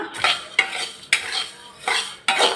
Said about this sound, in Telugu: ధనియాలు వేగినాయి ఇందులో రెండు స్పూన్లు జీలకర్ర కూడా వేస్తున్నా